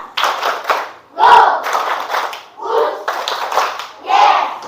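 Schoolchildren in a classroom clap in counted rhythmic groups for an ice-breaking game, several distinct bursts of hand claps separated by brief pauses, with children's voices chanting along, close and lively.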